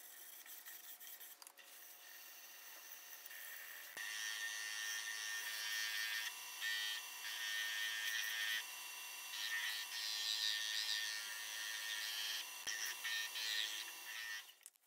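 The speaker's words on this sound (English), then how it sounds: "I'm going to start out with the Axe abrasive sanding paste." Rhythmic rubbing and rasping as a butternut wood bowl is hand-sanded with abrasive sanding paste, steady back-and-forth strokes close up, with brief pauses between passes.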